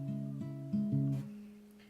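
Acoustic guitar plucks a short fingerpicked chord pattern, a few quiet ringing notes close up with no talking.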